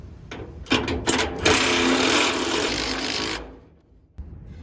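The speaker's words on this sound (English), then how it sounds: "I'm gonna torque it down probably, but let me impact it on first" An impact wrench tightens a nut on a car trailer axle, with a few short hammering taps followed by a loud, continuous rattling burst of about two seconds that cuts off abruptly.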